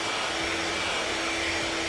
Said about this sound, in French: l'astuce du sèche-cheveux, vraiment très pratique